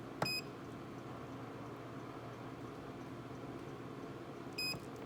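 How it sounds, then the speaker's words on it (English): Two short electronic beeps from a digital powder scale used for reloading .223 Rem ammunition, one near the start and one near the end, each clear over a steady low hum with no talk. "You heard the beep."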